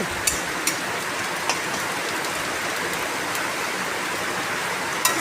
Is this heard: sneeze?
no